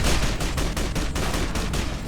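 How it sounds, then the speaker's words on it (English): Rapid shotgun fire in the video game Fallout New Vegas, a dense burst of repeated loud blasts in quick rhythmic succession, filling the whole moment without any talk. "But we got a shotgun."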